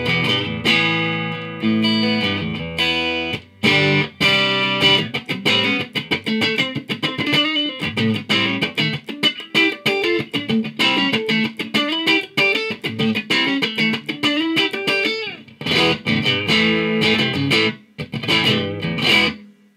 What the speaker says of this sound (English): Using a Fender Custom Shop Strat